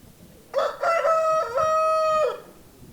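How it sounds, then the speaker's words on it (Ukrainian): A Livenskaya calico rooster crows once, a loud, close cock-a-doodle-doo lasting nearly two seconds over quiet background in a poultry yard. "Хоча півень породи ситцевих голосно заявляє про себе."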